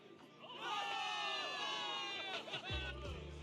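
Soldiers in the video game Zenless Zone Zero raise a loud, sustained crowd cheer of many overlapping shouting voices, ending with a low thump.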